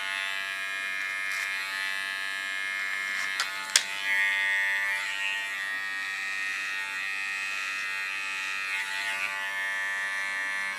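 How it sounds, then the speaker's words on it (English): Electric hair clipper buzzing steadily while trimming a very short pixie cut, blades set to 3 millimetres, a close, continuous motor whine with a brief click partway through and no talking. "I love to play with the blades of the clipper"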